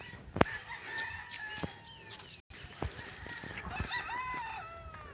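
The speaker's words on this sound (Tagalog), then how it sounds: "Yung mga manok." Chickens cluck and a rooster crows in an outdoor rural setting, with several sharp calls standing out over a steady bed of background noise and other birds.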